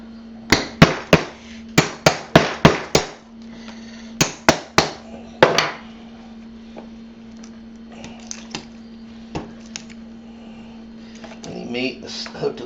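A hammer knocks a knife through a snapping turtle shell during cleaning: a quick burst of sharp, close metallic knocks in rapid clusters, then scattered single taps, over a steady low hum.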